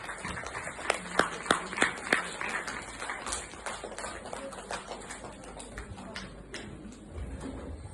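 An audience claps to welcome a priest to the stage at a Tamil gathering, starting with a few sharp, distinct claps that settle into lighter, scattered applause, with faint voices underneath.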